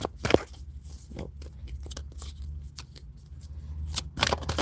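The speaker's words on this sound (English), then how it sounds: "Gotta shuffle the cards a certain way." A deck of cards being shuffled by hand, a series of brisk riffling and crisp slapping bursts close up, separated by short quiet gaps, with a final flurry at the end.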